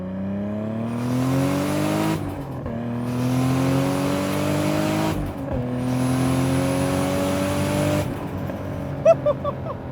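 A 500 hp RB30-powered Nissan R33 Skyline accelerating hard in second gear, its engine note climbing steadily in a loud, close, sustained roar, dipping briefly at gear changes and then rising again, with faint turbo whine above it.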